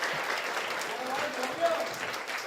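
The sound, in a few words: audience applause welcoming President Lai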